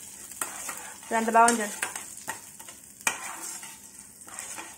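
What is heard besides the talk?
tempering spices frying in oil: dried chillies, curry leaves, cumin, mustard seeds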